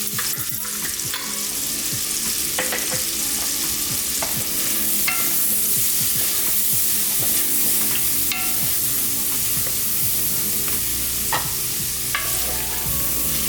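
Minced garlic sizzling in a pan while making Southern-style green beans with smoked turkey, a steady crackling fry broken by sharp clicks and scrapes of stirring, loud and close with no talk.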